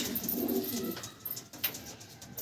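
Faint, low cooing from a Madras or Giribaz pigeon being handled, a short murmuring coo early on followed by light rustling, close and quiet with no voices.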